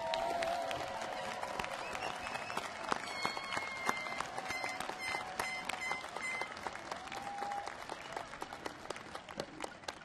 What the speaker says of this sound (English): how about one more round of applause for all the graduates?